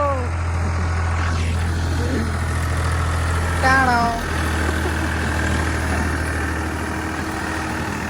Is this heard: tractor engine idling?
yes